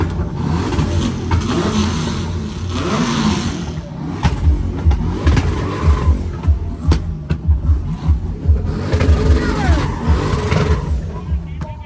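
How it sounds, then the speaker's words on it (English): A loud, powerful twin-turbo EG hatchback drag car engine revs and roars up close at a car show in Thailand, with rhythmic pulsing surges and sharp pops, while people talk over it. "we're racing a full-blown EG hatchback drag car"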